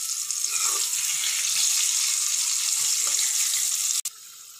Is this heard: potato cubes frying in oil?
yes